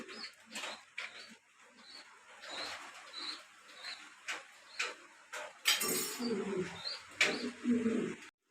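Pigeons in a pigeon sales loft, with pairs, eggs and squabs, coo in repeated soft bursts with occasional chirps and rustling, close by and fairly clear, plus a louder flurry of movement midway.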